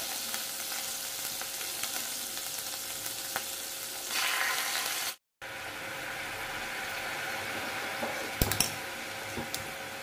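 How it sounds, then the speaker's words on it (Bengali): Ginger-garlic paste spatters and sizzles in a frying pan with a steady, dense crackling hiss, close and loud, broken by a brief gap and a few sharper pops and clinks, with no voices. "তার কারণ আদা রসুন পেস্টটা খুব ছিটকাচ্ছিল।"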